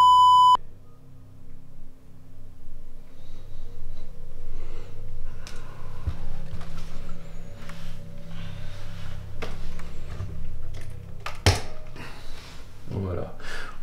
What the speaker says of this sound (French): Voulez-vous faire sonner les petits appareils qui sont sur ma main?